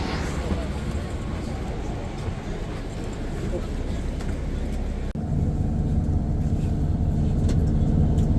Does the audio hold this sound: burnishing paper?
no